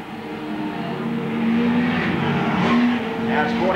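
Dirt-track speedway race cars at Charlton Raceway in the 1980s, three running abreast near the finish, give a loud, continuous engine roar with rising and falling pitch as they pass, under an excited race commentator.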